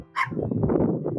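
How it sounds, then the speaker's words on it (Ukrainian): A single sharp dog bark rings out in the Ukrainian village of Voronenka, followed by a low, continuous rumble of background noise. "Ще один собака"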